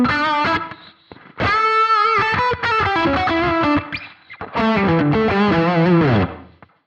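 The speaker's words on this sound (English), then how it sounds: "right away you can hear that the reverb is short, so that's like a little trick that I like to use. The delay is like super long, but the reverb is short" An electric guitar played through a BOSS GT1000CORE sounds distorted, with short reverb and a long delay, sounding loud and continuous as chords and melodic phrases ring out and repeat.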